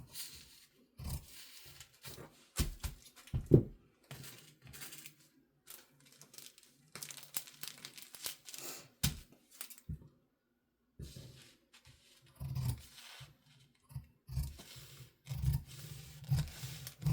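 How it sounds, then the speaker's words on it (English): Scissors snip through fabric while a sleeve pattern is cut out, giving irregular bursts of crisp cutting and scraping with paper-like rustles and short pauses between strokes, close and fairly quiet. "I'm going to go ahead and use my Guggenheim scissors"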